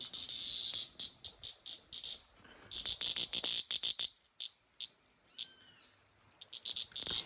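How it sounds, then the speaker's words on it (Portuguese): Green cicadas of the species Zamara tympanum buzz in loud, pulsing bursts, the shrill drones starting and stopping in quick rhythmic runs close by, with short gaps of near silence between phrases and no voices. "você escutar o som das cigarras."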